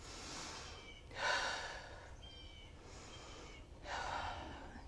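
Slow deep breathing during a yoga twist in a studio class, two soft audible inhale-exhale cycles, quiet and close with no talking.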